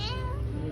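A cat meows near the front of a hilltop hotel in Tanay, with harmonic cries carrying over steady low background rumble for under a second.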